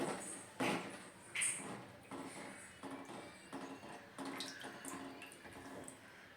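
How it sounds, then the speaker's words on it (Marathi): Water draining through a sieve from freshly washed chickpea greens in a home kitchen, a soft continuous trickle and splash with brief louder spurts, close and without talk. "त्यामध्ये मी पाणी नितळ ठेवणार आहे त्यामुळे सगळं पाणी नितळलं जातं"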